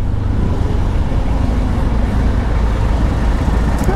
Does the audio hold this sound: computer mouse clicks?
no